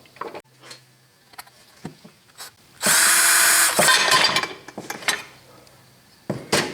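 Power driver unscrewing a screw from a die-cast aluminum grinder hone, a loud whirring burst lasting about a second amid scattered metallic clicks and knocks, close and with no voices.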